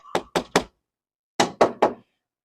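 Steel car door made from railway rail steel struck by hand, two sets of three firm, solid knocks separated by a short pause, close and loud with no other sound.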